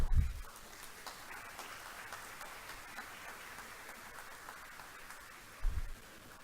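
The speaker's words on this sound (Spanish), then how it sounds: "El aplauso entonces para el doctor Duncan Kennedy" An audience at a university conference honouring Doctor Duncan Kennedy gives him applause, soft, distant, steady clapping from many hands, rather faint, with a couple of low thumps near the start and end.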